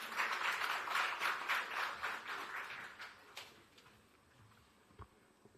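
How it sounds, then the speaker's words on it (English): A seated audience at the launch of a development centre in Nairobi claps to welcome a speaker, steady dense hand clapping that fades out after about three seconds, leaving a few faint scattered claps and room noise. "Let's welcome him with a clap, please"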